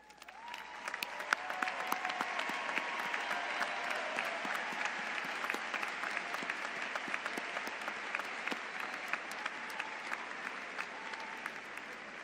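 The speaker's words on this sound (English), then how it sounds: "would you please stand so that we can applaud your accomplishments?" Sustained audience applause at a Florida State University spring commencement as honor society graduates stand, a dense even roar of many hands lasting the full stretch, steady and fairly distant.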